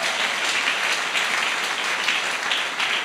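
A church congregation at a Sunday service bursts into sustained applause, a dense, even wash of many hands clapping that fills the room without a break.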